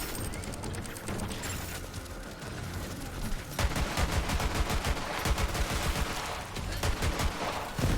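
Pistol gunfire in the video game Borderlands 3 rings out as rapid, loud repeated shots. They come in dense bursts throughout, with game sounds beneath.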